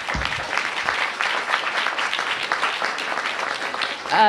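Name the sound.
big round of applause from audience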